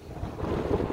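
Wind gusting across a microphone on a boat out for wakeboarding, with low rumbling buffets that swell and stay loud through the brief moment.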